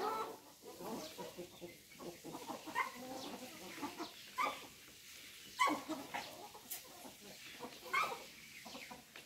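Hmong chickens clucking and squawking in short scattered bursts at a farm, near and moderately loud, with sharp peaks recurring every second or two and low background noise.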